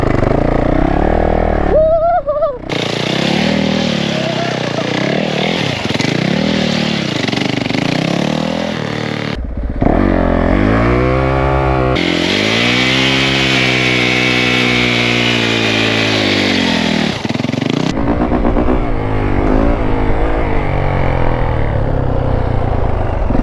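A Yamaha YZ450F dirt bike fitted with duct-tape-wrapped tires revs loudly while doing donuts, its engine rising and falling in long surging sweeps with brief drops between bursts, close to the listener and not under speech.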